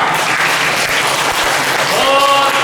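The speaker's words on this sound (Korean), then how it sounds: "아프리카 사람들 한번 박수 한번 칩시다" A church congregation at a Sunday service bursts into broad, steady applause that fills the room, with murmured voices mixed in and some tonal music or singing rising near the end.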